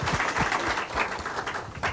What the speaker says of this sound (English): Can we get a round of applause for Antonio?